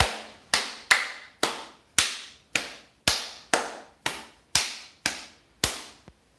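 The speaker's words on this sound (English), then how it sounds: "a really strong cast clapping is a great way to break a cast" Hands clap on gel-coated loose curly hair to break the cast, about a dozen sharp, close slaps at an even, unhurried rhythm with no talking.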